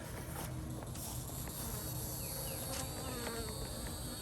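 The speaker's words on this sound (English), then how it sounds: "I'm seeing some bees in there." Honey bees at an apiary hive being inspected hum in a continuous, busy buzz that stays close and even throughout, with faint scattered rustling and no talk.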